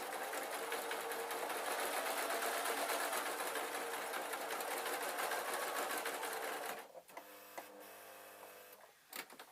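A sewing machine runs at a steady fast whir while stitching oilcloth for a peg bag, then stops near the seven-second mark, leaving a few soft clicks and handling noises.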